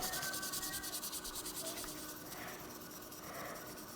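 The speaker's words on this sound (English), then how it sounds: "Now I'm going to go over it with 3000 Grit Sandpaper." A scratched car shifter indicator lens is wet sanded with 3000 grit sandpaper, close rhythmic back-and-forth rubbing strokes in a quick steady pattern, then a softer continuous scrub.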